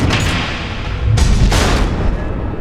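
Missile explosions in a Batman video game: a dense, continuous rumbling barrage of booms with two stronger blasts surging at about one and one and a half seconds, loud and close throughout.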